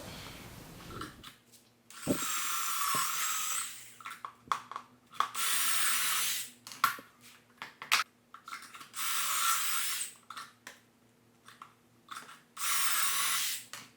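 Several bursts of a whirring power drill boring pocket holes in wood, each lasting a second or two, separated by short pauses and small clicks and handling noises.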